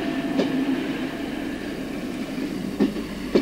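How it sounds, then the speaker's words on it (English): A train pulling into the passing loop at Speen Bridge station on a radio electronic token block single line in Britain, its steady low rumble carrying throughout with a few brief sharp clanks near the start and end. "This train has arrived within the passing loop at a place called Speen Bridge."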